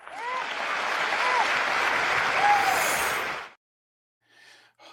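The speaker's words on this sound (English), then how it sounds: "how our congressmen just jump up like trained seals and clap for Netanyahu after almost every sentence he made" US Congress applauding Netanyahu's speech: a large chamber crowd claps loudly and steadily for a few seconds with scattered whistles and cheers, then breaks off abruptly, followed by brief faint sounds.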